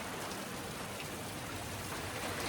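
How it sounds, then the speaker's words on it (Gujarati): Dense rain falls steadily, a constant soft patter and hiss with no other sounds, fairly quiet and even throughout. "વરસાદ જોરદાર ચાલુ થઈ ગયો"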